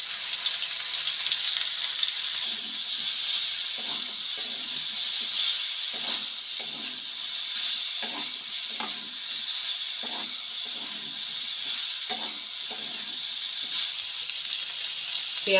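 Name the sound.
chopped onions sautéing in a pan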